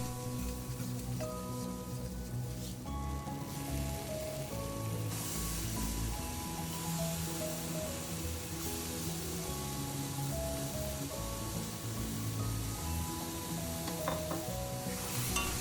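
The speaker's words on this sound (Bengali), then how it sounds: "মশলা আর চিকেন মোটামুটি কষিয়ে নিয়েছি" Chicken thigh pieces and a ground Kashmiri chili spice paste sautéing in a pan, a close, dense and continuous sizzle with scraping stirs running throughout.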